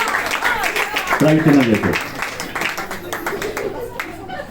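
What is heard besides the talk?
audience applause for a prize winner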